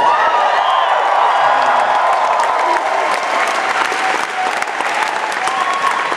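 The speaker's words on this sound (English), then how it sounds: "It's very nice of you to clap like that." Concert audience applauding steadily and loudly throughout, a dense wash of clapping with a few scattered whoops, right after the performer promises new songs.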